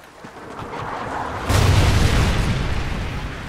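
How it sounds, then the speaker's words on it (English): Trinity rocket explosion in the Call of Duty: Ghosts multiplayer game, a rumbling buildup breaking into a loud, broad boom halfway through that rolls on with a sustained roar. "Friendly Trinity rocket inbound."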